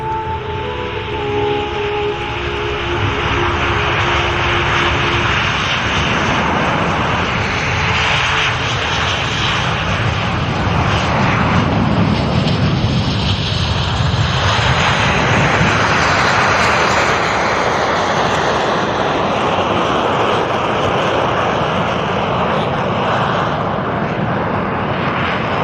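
Frecce Tricolori jets accelerate down the runway on a takeoff roll at an airshow, a loud, sustained roar that swells and shifts in pitch as the aircraft pass.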